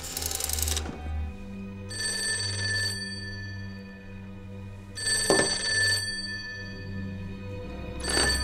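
An old-style telephone bell rings in loud repeated bursts of about a second each, separated by pauses, heard alone over a low hum in a 1940s-era spy drama scene.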